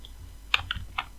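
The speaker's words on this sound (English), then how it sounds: "Next, we'll hit 1 on our keyboard, hit Shift-A, and go to Images as Planes." Computer keyboard keys pressed while entering Blender shortcuts: three or four quick, light clicks in a short burst, close and fairly quiet over a faint background.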